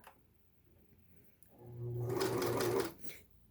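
A Singer 6211C sewing machine runs in one short burst of about a second and a half, with a fast mechanical whir and needle rattle heard up close after quiet handling.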